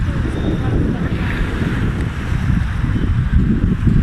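Strong wind roars steadily across the microphone on Roxas Boulevard's seafront, a dense low buffeting rush that never lets up, with a faint wash like surf beneath it.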